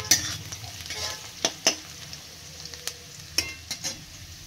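Onions frying in a hot pan over a raised gas flame until brown, a steady close sizzle with intermittent scraping stirs and sharp clinks of a utensil against the pan.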